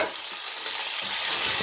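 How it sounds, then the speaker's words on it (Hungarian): Chicken breasts sizzle in a pan with paprika, a steady bright frying hiss close up that swells slightly louder toward the end, with no voices. "ilyenkor hozzáteszem a csirke melleket"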